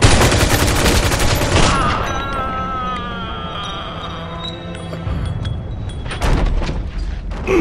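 Gunfire in the crime game Mafia II, a loud close burst of rapid shots at the start, then quieter ringing and rumble, and heavy shots returning near the end.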